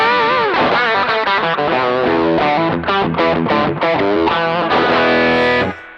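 Electric guitar with a different pickup type than a Strat, played through a drive pedal: a loud, sustained distorted run of chords and bending notes, steady for about six seconds before cutting off.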